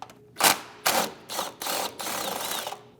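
Ratchet wrench loosening an E10 Torx valve cover bolt on a 2010-2015 BMW X1, five quick clicking bursts close by with short pauses between, the last run longer and steadier.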